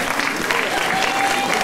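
Audience applauding a candidate at a regional Miss beauty pageant in Lorraine, a steady dense wash of clapping throughout the short moment.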